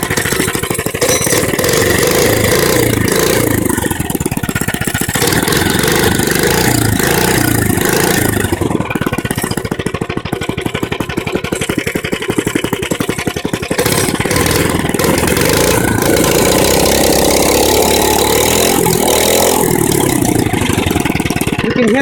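A mini bike engine runs loud and close on full choke, a rough, uneven mid-pitched chug with occasional sputtering backfire pops, revving up and down throughout with no talking.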